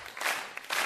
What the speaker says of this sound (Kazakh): Шапалақ ағайын таңғы 5-ке.